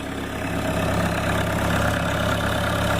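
A cold-started engine idles steadily on a freezing morning near 30 degrees, a continuous low rumble with a faint knock, close and constant throughout with no voices.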